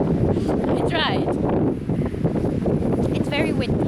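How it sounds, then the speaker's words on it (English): Strong wind at a beach buffets the microphone in a steady, loud roar with gusty swells, and brief voices surface faintly beneath it. "It's very windy."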